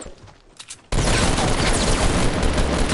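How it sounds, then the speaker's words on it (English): Rapid bursts of video-game gunfire erupt after a quiet opening and keep going loud and dense to the end, sounding like a sustained volley from a console battle-royale match. "I heard gunshots just right here."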